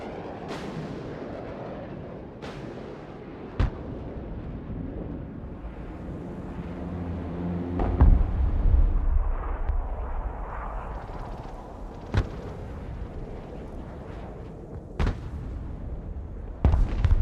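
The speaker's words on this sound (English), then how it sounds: "Mobile artillery standing by." Artillery fires in the military video game Broken Arrow: several sharp distant booms land at irregular intervals over a low, rumbling battle bed, with a heavier swell of rumble in the middle.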